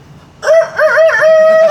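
A rooster crows close and loud in a single long cock-a-doodle-doo with a wavering, drawn-out final note, heard alone with no talking.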